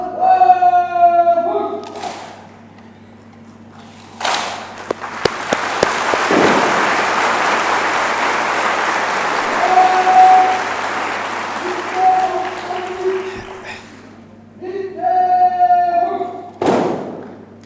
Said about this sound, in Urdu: بھرپور تالیاں لیڈیز اینڈ جینٹلمین.